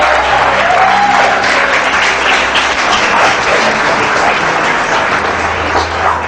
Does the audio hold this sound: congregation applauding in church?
yes